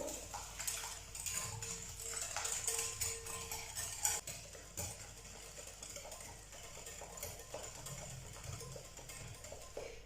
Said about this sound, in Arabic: وكنطرب سنيده مع البيض مزيان حتى كتذوب لينا سنيده